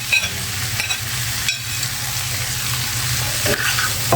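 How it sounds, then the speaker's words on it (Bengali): Pangas fish dropped into a frying pan of boiled potatoes, giving a steady close sizzle of hot oil with a few stirring scrapes throughout. "এখন এই অবস্থায় মাছটা আমি ভিজে রেখেছি সেটাকে দিয়ে দিচ্ছি"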